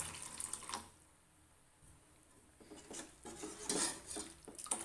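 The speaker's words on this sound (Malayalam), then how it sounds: "കുറച്ചും കൂടി നമുക്ക് വെള്ളം ഒഴിച്ചു കൊടുക്കാം" Water poured into a pot of rasam, an Onam-style version made without garlic or pepper, with clinks of dishes and utensils and running, splashing water in a kitchen; a short quiet gap mid-way, then louder pouring and clattering.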